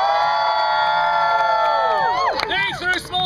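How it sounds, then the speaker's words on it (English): A theatre audience at a musical Macbeth staging erupts in loud whooping, hollering and cheering, with children's high shouts and a little clapping rising into a dense, continuous crowd roar. "I want you to hoot, holler, clap, cheer, stomp your feet, whistle, and throw small loved ones into the air"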